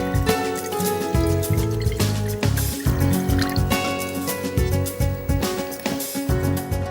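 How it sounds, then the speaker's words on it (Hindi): Water poured into a cooking pan in a home kitchen, a steady splashing fill that runs continuously and fairly loud throughout, with no talking. "थोड़ा सा पानी लीजिए एक पैन में।"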